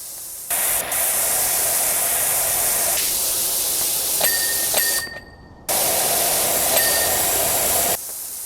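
Pressure washer jet in PowerWash Simulator 2 blasting a van, a loud continuous broadband hiss that cuts out briefly and resumes, with small tonal shifts as the spray moves across surfaces.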